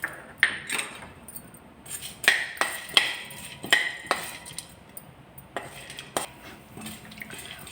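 Chana dal and urad dal stirred in a pan while roasting over low heat: a spoon scrapes and clinks against the metal in a steady series of sharp, close taps and rattles, with no talking.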